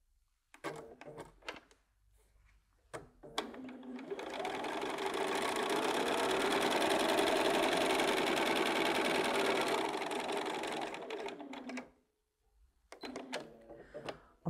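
A sewing machine chain-pieces quilt fabric squares with a 1/4-inch seam, a steady mechanical whirring run lasting about eight seconds between brief handling clicks and rustles of fabric before and after.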